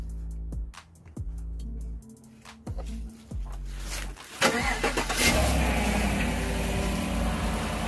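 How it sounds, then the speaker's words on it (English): A car engine cranks in a series of rhythmic starter bursts, then catches and settles into a loud, steady idle, on a vehicle with a busted brake line. "Go ahead and start it up."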